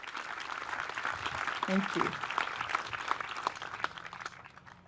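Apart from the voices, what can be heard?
audience applause at an artwork dedication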